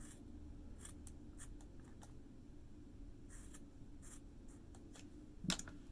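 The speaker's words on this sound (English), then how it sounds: "I'm gonna cut some more 1/2 inch little pieces." Scissors snip small half-inch pieces for stage makeup mutton chops, giving quiet, close, irregular crisp cuts over a faint background hiss, with a sharper click near the end.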